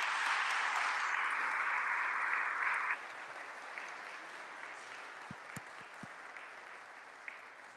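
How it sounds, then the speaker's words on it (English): Applause from a church congregation at a Capuchin priestly ordination, a dense steady wash of many hands clapping, loudest for the first three seconds, then continuing more softly with a few scattered sharp claps. "Please give him a wonderful round of applause."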